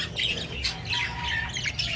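English budgie hen giving repeated sharp squawks and chirps at close range over steady background noise, with no voices.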